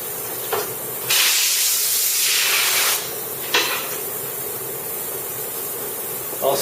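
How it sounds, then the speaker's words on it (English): Bursts of compressed air spray inside a Unibody MacBook Pro during liquid spill repair, a loud steady hiss running about two seconds, with shorter puffs before and after and no talk. "if you use compressed air on the speaker, keep it under 25 psi"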